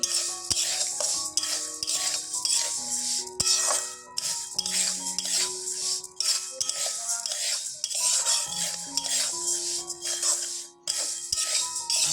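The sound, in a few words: frying and stirring mung dal in a pan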